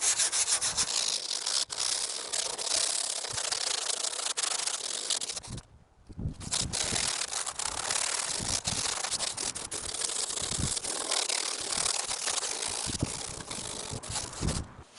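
Hand sanding of a carbon fibre wheel arch for an Alfa Romeo 159 with 80 grit sandpaper: continuous rapid scratchy rubbing strokes, close and steady, with a brief pause midway before the abrasive scraping resumes.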